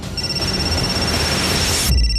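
A telephone's steady electronic ringing tone holds through nearly two seconds, then cuts off abruptly into a brief burst of low noise.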